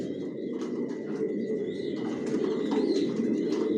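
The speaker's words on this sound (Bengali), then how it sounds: "এখানে যে কবুতরগুলো দেখতেছেন এগুলো আমার মাস্টার পেয়ার, রানিং পেয়ার" Racer pigeons of a Janssen line cooing together in a loft, a steady layered murmur of low coos with occasional chirps and faint wing movement, close and continuous.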